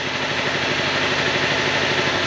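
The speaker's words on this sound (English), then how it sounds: "Guess who got a running bike?" A 2011 Honda CBR250R motorcycle engine runs at a steady, close idle, a continuous even hum with no talk over it.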